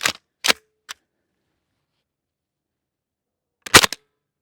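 Airsoft gun fired a few times in the dark, heard as three sharp close snaps in quick succession, then a pause of about three seconds before one more louder, double-edged crack.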